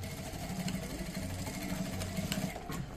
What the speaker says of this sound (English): So we are sewing a straight line.